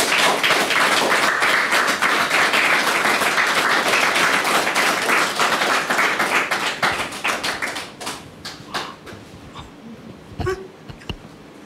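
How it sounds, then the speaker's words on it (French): A studio audience at a French-language talk show claps loudly for an arriving guest, dense applause that thins into scattered claps and a few thumps before fading near the end. "Merci de la recevoir avec vos applaudissements"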